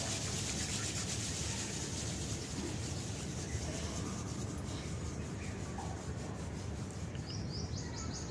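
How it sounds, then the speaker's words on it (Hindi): Two hands rubbed briskly together, a continuous close dry rasping friction that holds steady throughout, with faint chirps of birds in the background. "फिर दोनों हाथों को रब करो"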